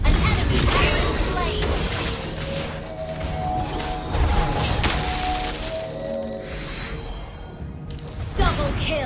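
A turret crumbling under attack in the Mobile Legends battle arena, loud crashing and clinking debris layered over dense game effects and music, with an announcer voice speaking.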